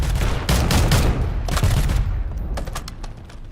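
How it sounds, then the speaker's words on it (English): Video game gunfire comes as rapid bursts of loud, booming shots in several clusters, some heavy and close, others lighter and more distant, over a constant rumble of background noise. "I'm just putting shots on them."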